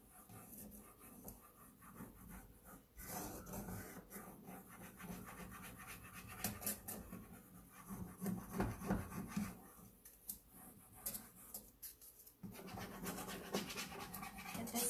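Steady scratchy rubbing of a decorative transfer being pressed onto a painted wooden dresser, a continuous rasping texture with uneven strokes close to the microphone, no talking.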